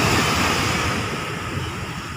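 Steady broadband wash of ocean waves at the seaside in the late afternoon, a continuous loud rushing roar with no distinct breaks and no talking.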